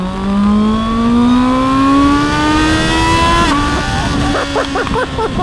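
A QJ Motor SRK 921 motorcycle engine revs hard, its pitch climbing steadily, then dips at a quick shifter gear change and keeps pulling, loud and close, with rough stuttering pops near the end.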